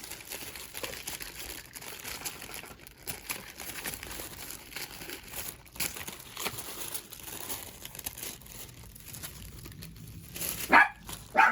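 A dog indoors gives a couple of sharp barks near the end, following a stretch of paper crinkling and handling noise.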